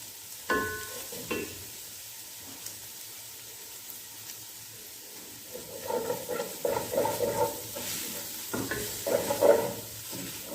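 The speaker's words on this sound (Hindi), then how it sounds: "तो चलिए अब इसमें मैं अपना चिकन ऐड करूँगी। तकरीबन आधा किलो चिकन है, ये डाल देती हूँ।" About half a kilo of chicken goes into a pot of hot and sour soup and gets stirred, a soft sizzle with a couple of early clatters, then a burst of bubbling, scraping stirring noises toward the end.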